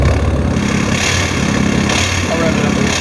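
A tuned and deleted Dodge EcoDiesel pickup truck idles nearby with a loud, steady diesel rumble, while someone talks over the engine.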